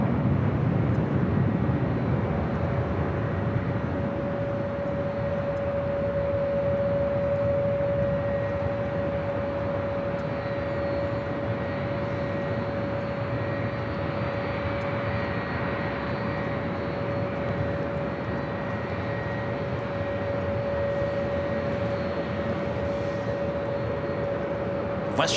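Aircraft at LAX give a continuous, broad, steady roar with a sustained tonal whine, loud and unbroken over the whole stretch.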